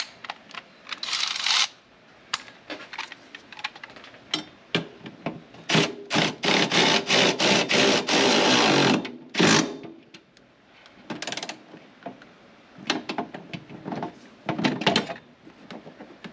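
Hand tools work on a Toyota Land Cruiser 80 Series battery mount, a ratchet clicking in bursts to tighten a bolt, with clattering metallic handling noises in between; close and moderately loud, no talking.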